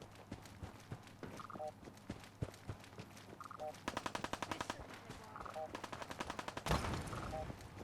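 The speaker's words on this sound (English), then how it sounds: "Someone's fucking shooting at me." Gunfire in the video game Fallout 4, rapid bursts of automatic shots and scattered single cracks over a low game soundscape with recurring electronic blips, fairly quiet overall.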